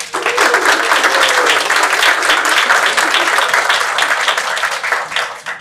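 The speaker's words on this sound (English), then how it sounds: "Let's give him a round of applause." A room full of people at a clean energy task force meeting gives a steady round of applause, dense and even for several seconds before tapering off at the end.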